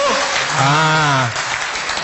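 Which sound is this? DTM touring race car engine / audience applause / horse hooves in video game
audience applause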